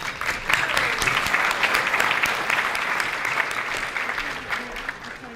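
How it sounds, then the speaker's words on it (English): Audience applauding sponsors at a League & Legislature event: loud, sustained clapping from a large crowd, dense and even throughout before easing slightly near the end. "Let's give our pillar sponsors a big round of applause"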